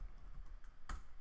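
Code being typed on a computer keyboard, a quick run of soft key clicks closing with one sharper, louder keystroke, close and quiet with no speech.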